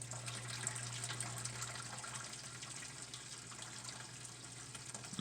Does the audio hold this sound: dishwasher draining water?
yes